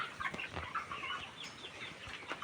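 Chickens clucking on a poultry farm where some birds have fowl pox, a steady scatter of soft, fairly close clucks and chatter from several hens with no voices.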